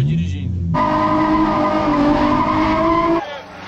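A drift car skidding while it is driven, giving a loud, sustained tire squeal with engine roar that holds for about three seconds and then drops away sharply.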